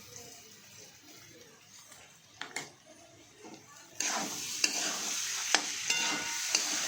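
Sabudana khichdi ingredients being stirred in a pan, soft scraping at first, then a louder sizzle that swells in with a few sharp clinks of the spoon against the pan, close by.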